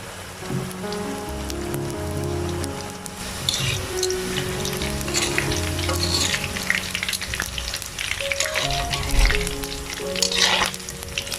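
Steady crackling sizzle of curry pakoras frying in hot oil, continuous and close, with occasional louder pops and stirring noises.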